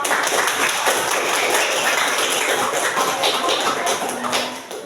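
Classroom applause for a student group that has just finished its presentation during a teacher-training lesson: a steady wash of many hands clapping close by, sustained throughout and tapering slightly at the end.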